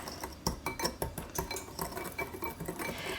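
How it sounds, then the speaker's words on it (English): A wire whisk beats pumpkin pie mixture in a small bowl to break up clumps, giving quick rhythmic clinks and scrapes against the bowl that repeat steadily at close range. "I grabbed my wire whisk. Get those clumps out."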